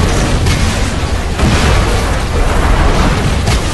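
An RPG rocket in Hard Reset blasts with a loud, close, rumbling explosion that fills the whole span, with heavy low-end boom and crackling debris and no clear break.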